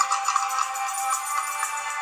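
A mobile phone ringtone chimes steadily for a couple of seconds over an online casino slot game session, bright electronic tones with no talking.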